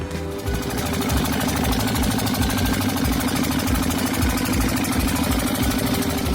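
A dompeng engine, a small diesel engine used by miners, runs on biodiesel made from used cooking oil. It gives a loud, steady, rhythmic chugging throb that carries on without a break, with no talk.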